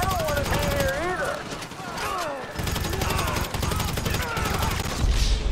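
Machine gun fire from the video game GTA V, rattling in dense bursts throughout amid game music and other game sounds.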